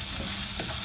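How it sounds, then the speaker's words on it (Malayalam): Fresh vegetables, including carrots, sautéing with salt in a pan for white sauce penne pasta, giving a steady close sizzle with faint stirring scrapes throughout the short stretch. "നന്നായിട്ട് സോട്ട് ചെയ്യുക."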